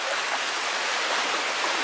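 Floodwater after heavy rain rushes steadily, a close, broad, continuous wash of flowing water with no voices.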